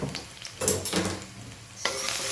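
Turmeric, coriander-cumin powder and salt are stirred into hot oil in a pan, with a spoon scraping in short strokes over a soft sizzle.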